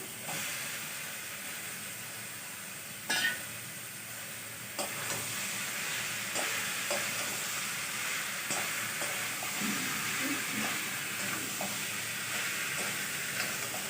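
Taro stolons (kochur loti) fry in a pan with a continuous loud sizzle and hiss, broken by repeated scraping stirring strokes from about the third second onward.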